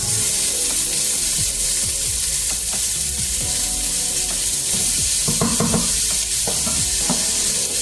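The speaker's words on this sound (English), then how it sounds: "Now we're putting our meatballs in." Meatballs go into a hot pan and sizzle loudly and steadily up close, with scraping and stirring knocks and some wet spattering.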